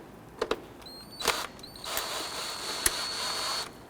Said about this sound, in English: On our air intake tube, we want to go ahead and loosen up this clamp right here.